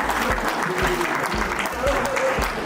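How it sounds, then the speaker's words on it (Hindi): Applause for four honoured teachers at a teacher felicitation ceremony in Kurukshetra: steady crowd clapping with regular low thumps, likely from a drum, and a faint voice underneath. "कृपया जोर से ताली इन चारों के लिए जरूर बजा दीजिएगा"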